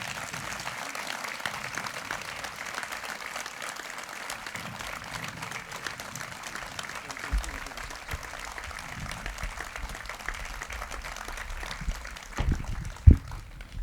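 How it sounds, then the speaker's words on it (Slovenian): An outdoor audience at a village folk singing event applauds steadily and evenly, a dense and moderately distant patter of clapping lasting throughout. "še enkrat en veki aplavz za jih"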